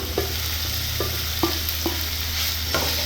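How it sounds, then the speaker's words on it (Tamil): Fried paneer being stirred and sautéed in masala for a paneer roast, with a steady oil sizzle and a few distinct spoon scrapes against the pan at irregular intervals, close and moderately loud. "பன்னீரை சேர்த்துட்டு நல்லா வதக்கிக்கோங்க"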